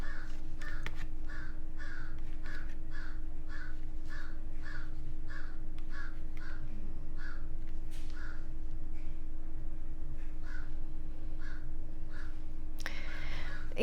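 Crows caw outside in a steady series of harsh, rhythmic calls, fairly faint and distant against a low indoor hum, with a few louder caws standing out near the end.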